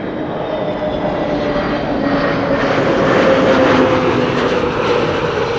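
An airliner arriving from Miami approaches Amsterdam Schiphol Airport on a windy day, its engines a loud, steady roar that swells as it passes close overhead.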